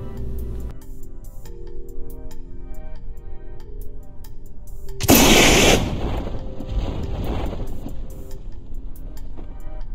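In Kerbal Space Program, a rocket's launch escape tower fires on the launch pad, a sudden loud roaring burst lasting about a second that fades into rumble over a steady game hum.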